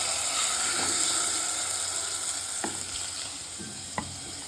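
Egg pulusu mixture sizzling in a pan as it is stirred, a constant loud hiss broken by a few sharp clicks of the spoon against the pan.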